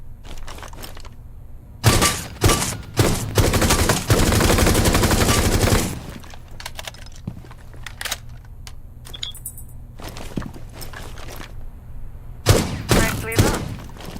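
Gunfire from shooting targets in a Rainbow Six training exercise: bursts of rapid automatic fire and sharp single shots, loud and close, with a voice giving instructions in between.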